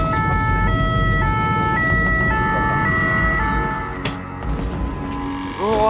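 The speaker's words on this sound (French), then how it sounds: "L'ambulance fonce dans l'arrière-pays." An ambulance speeding through the French backcountry near Bayonne wails its two-tone siren loudly and continuously, with road noise and engine hum beneath; the siren fades somewhat toward the end.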